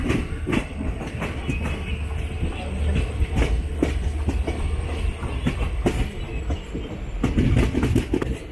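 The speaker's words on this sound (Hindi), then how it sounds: "हमारी ट्रेन उदालगुड़ी से चलने के बाद अपने चौथे हॉल्ट न्यू मिसामारी पहुंच रही है" A Murkongselek Express passenger train with general coaches runs through North East India between Udalguri and Rangapara North, nearing the New Misamari halt. A steady, close rumble of wheels on rails carries a continuous clickety-clack with no break.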